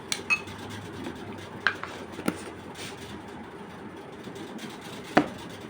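A spoon mixing besan, turmeric and aloe vera gel in a small bowl, giving quiet scraping and a few sharp clinks against the bowl, sparse and close over a faint background hush.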